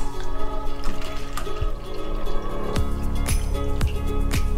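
Crystal-growing solution is poured into a single container, a close liquid stream with sharp drips and splashes recurring through the pour.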